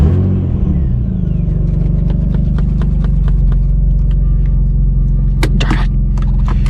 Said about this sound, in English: here's a quick little startup for you guys